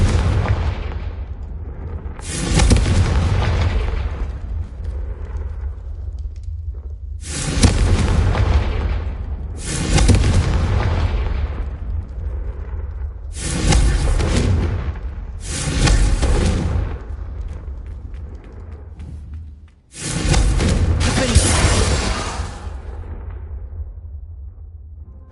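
Repeated Confringo explosion spells in the Hogwarts Legacy game, about six loud booming blasts spaced a few seconds apart, each with a long rumbling tail, with no voices.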